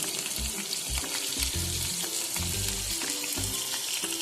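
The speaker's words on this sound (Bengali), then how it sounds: "হলুদ দিয়ে আলুগুলোকে একদম লাল করে ভেজে নেব।" Potatoes with salt and turmeric sizzle steadily in hot oil, a continuous close frying hiss broken by repeated low knocks and scrapes of stirring.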